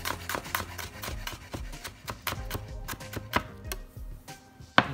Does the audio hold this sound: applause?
no